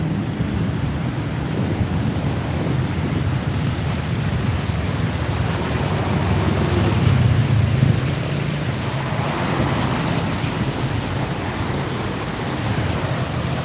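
Heavy morning rain in Bangkok, a dense, steady broadband hiss of downpour with low rumble, continuous and fairly loud with no talk.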